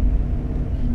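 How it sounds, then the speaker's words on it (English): A big truck rolls slowly past, its low engine rumble steady and fairly loud throughout, heard from a car near a mall. "Alright, big truck going slow."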